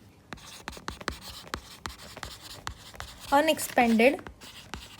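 A marker scratches across a board during an accounting lesson, giving short, rhythmic strokes that tick steadily before a voice speaks over the writing.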